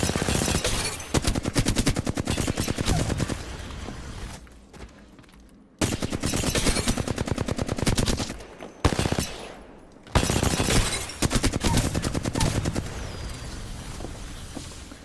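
Rapid automatic gunfire in Apex Legends, long rattling bursts of close, loud shots broken by brief pauses, then resuming in sustained streams of fire.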